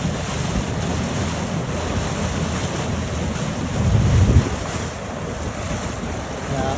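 The Rhine Falls in Switzerland roar as a boat draws close beside the cascade: a dense, steady wash of rushing water mixed with wind buffeting the microphone, swelling briefly midway.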